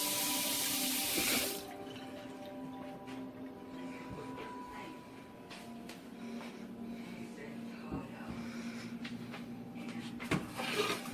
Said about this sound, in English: I just take my water and I'm just gonna cover the rice maybe about an inch over the top of the rice